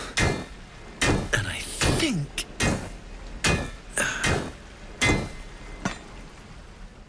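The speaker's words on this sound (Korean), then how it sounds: "잠시 기다리려고 하면서 열심히 망치질을 하는데요." In the Baldur's Gate 3 fantasy game, a hammer strikes metal in a series of sharp, ringing clangs at an uneven pace, with a character briefly speaking among the blows.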